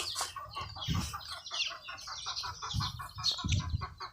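Several chickens cluck and chatter close by in short, overlapping bursts, with no one speaking.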